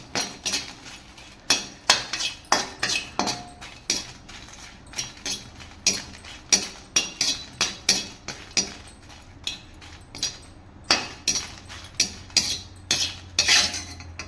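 Dry red chillies being roasted in a pan without oil for rasam powder, heard as repeated sharp scrapes and clinks of a metal spoon against the pan in an uneven stirring rhythm, close and with no speech.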